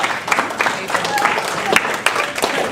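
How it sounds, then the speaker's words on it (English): Guests at a wedding reception applaud after a speech, a brisk patter of many hands clapping at moderate distance with voices mixed in. "Please, round of applause."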